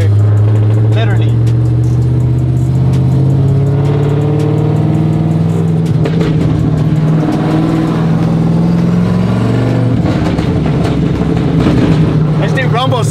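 A Chevrolet SS engine rumbles steadily and loud in a parking lot, its deep idle swelling with a few revs, while people talk over it.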